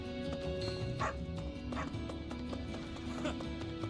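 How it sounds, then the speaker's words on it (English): A dog in the video game Fire Emblem: Three Houses barks in a few short, sharp yips spread over a few seconds, set against a steady game music background. "What a noisy dog."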